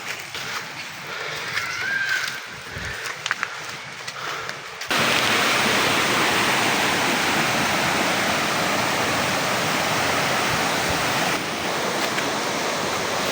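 A waterfall in the Mindanao forest of Zamboanga del Norte: after quieter outdoor ambience with a few small bumps, a loud, steady, full rush of falling water begins and keeps roaring without a break.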